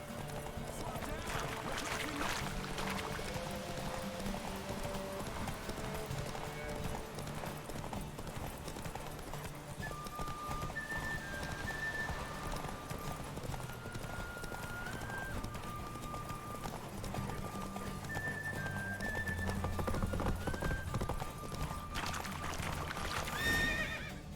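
Horse hooves gallop and the horse neighs in The Witcher 3, with steady clip-clop under game music and character talk throughout, plus a louder burst near the end.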